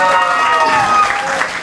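Audience at an Afro-Cuban percussion clinic at Milton Academy applauds steadily, a dense wash of clapping with a crowd murmur and a voice speaking through it.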